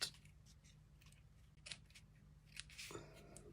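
Scissors snip paper while making a handmade card, giving a few quiet, brief cutting sounds close by against a soft, low background hum.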